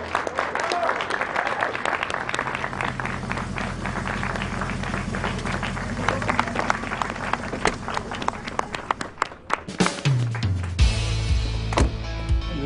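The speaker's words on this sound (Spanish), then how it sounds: "¡Aplauso!" Steady applause from a gathered group greets a woman's arrival, dense clapping with a low rumble underneath that fades into louder scattered sounds toward the end.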